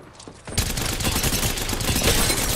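Video-game gunfire from enemy squads: one loud, continuous burst of rapid shooting begins abruptly after a quiet start and keeps going to the end.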